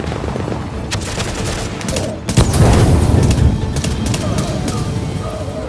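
Turret gunfire in the video game The Division, a dense continuous burst of shots and booms that swells louder after a brief dip and keeps rattling steadily, with game noise and voices mixed in.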